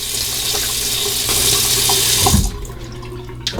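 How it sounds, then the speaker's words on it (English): Tap water runs steadily into a sink for a cold-water rinse during a wet shave with a shavette razor, a continuous close hiss that cuts off near the end, followed by quiet room tone. "Final rinse with cold water."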